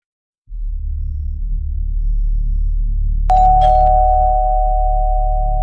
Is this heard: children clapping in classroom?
no